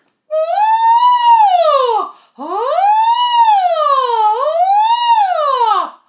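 A vocal coach imitates a siren as a singing warm-up, sliding the pitch up and down in two long continuous wails with a brief breath between them.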